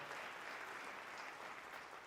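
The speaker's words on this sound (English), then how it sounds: "I think you should give yourselves a round of applause." Steady applause from a keynote audience at a chancellor's retreat, a dense wash of many hands clapping at even loudness for about two seconds with no voices over it.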